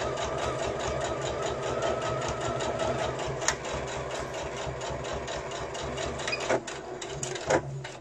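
A sewing machine stitches steadily along the length of a fabric pouch, a close, rapid mechanical whir with an even rhythm and brief clicks near the end, and no talk.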